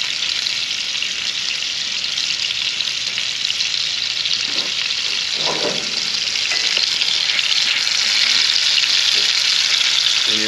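Whitetail deer loin sears on a hot grill, a loud, continuous hiss and crackle close by, with a few soft thumps from handling partway through.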